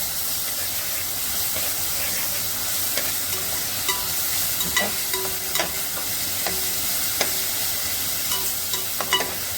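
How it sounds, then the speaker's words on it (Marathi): Ginger garlic paste sautéing in oil with onions, a continuous close sizzle with scattered spoon scrapes and clicks against the pan, no talking. "त्यात घालणार आहे आलं लसूणची पेस्ट. तिथे तेल सुटेपर्यंत जरा परतून घेणार आहे."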